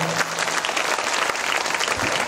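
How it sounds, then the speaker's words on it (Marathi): Audience at a Buddhist dhamma gathering claps together in a sustained, dense round of applause, steady and loud throughout, with no voices over it. "एकदा त्यांच्या मायबापांसाठी तुम्ही टाळ्या वाजवल्या पाहिजे"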